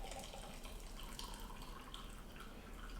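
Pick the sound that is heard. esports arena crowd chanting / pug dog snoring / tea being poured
tea being poured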